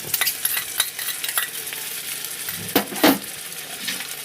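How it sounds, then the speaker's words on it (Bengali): Fried onions sizzle in a pan as ginger garlic paste is stirred in, with a spoon scraping and clinking against the pan, then a couple of louder knocks, and no one speaking. "এবারে এখানে দিয়ে দেবো আদা রসুনের পেস্টটা দিয়ে দেবো।"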